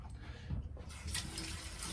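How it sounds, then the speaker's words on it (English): Cold water running from a kitchen tap as hands are wetted before shaping burger patties for a homemade cheeseburger pizza, a steady close splashing gush that grows fuller partway through. "if you wet your hands with a bit of cold water"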